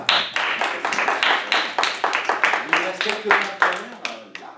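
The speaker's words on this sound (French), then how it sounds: "On applaudit bien fort" An audience at a high school slam poetry workshop claps in quick, close, sharp bursts, with a voice talking over the clapping in its second half.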